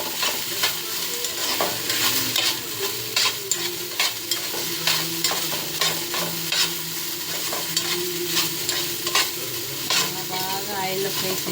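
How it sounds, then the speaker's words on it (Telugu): Food fries in hot oil in a pan, a continuous close sizzle broken by regular scraping stirs that repeat roughly every half second to a second, with no voices. "ఆయిల్లో ఫ్రై చేసేయాలి"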